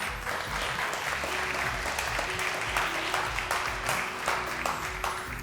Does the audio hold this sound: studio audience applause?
yes